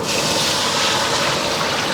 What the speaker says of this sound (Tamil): அதில் தண்ணி சேர்த்துக்கலாம்